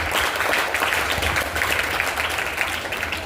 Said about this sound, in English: तालियां बजाओ जोर से तालियां देने के लिए.